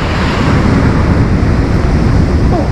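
Stormy sea waves crash and wash continuously onto Flamingo beach at Lazarevskoye in January, a loud, dense roar of surf with wind buffeting throughout.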